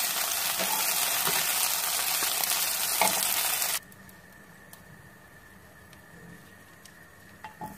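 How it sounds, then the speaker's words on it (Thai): Chicken stir-fries in vegetable oil in a pan with a loud, steady sizzle and crackle that suddenly drops to a faint hiss and quiet background partway through. "ตั้งกระทะค่ะใส่น้ำมันพืชลงไปนะคะ แล้วเราก็นำไก่ของเรานะคะลงไปคั่วค่ะคั่วจนเขามีสีเหลืองเลยนะคะ"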